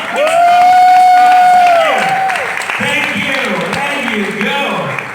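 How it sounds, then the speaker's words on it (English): A media audience at the realme XT smartphone launch in Malaysia claps and cheers, a loud burst with whoops and shouting voices that settles into continued clapping and crowd chatter. "I think you should put your hands together and clap for this one"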